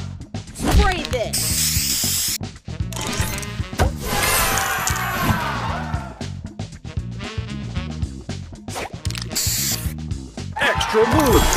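A spray booster fires in a puzzle video game as a hissing burst among busy clinks, chimes and mechanical game effects, with a synthetic announcer voice over the loud, dense mix.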